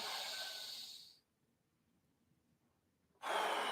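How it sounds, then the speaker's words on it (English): A deep inhale during a guided breathwork exercise, a steady breathy rush lasting about a second, then near silence before another breath starts at the end. "take a deep breath in"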